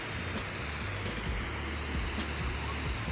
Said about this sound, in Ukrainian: Струмок.